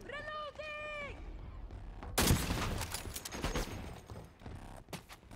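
Rapid gunfire in the online shooter Dirty Bomb bursts in loud and dense after a couple of seconds, with clattering shots and mechanical game sounds continuing after a short tonal sound at the start.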